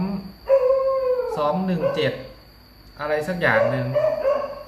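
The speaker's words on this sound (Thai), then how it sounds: "ต้องขออภัยเอฟซีด้วย เสียงหมาเห่า" A dog barks and howls in drawn-out, wavering bursts outdoors, heard fairly close, while someone talks over it.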